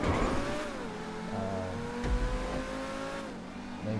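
A supercar engine in GTA Online, said to sound like a Lamborghini, revs steadily with rising and falling harmonic tones and a brief gear-change dip midway, loud and up close throughout with no talking.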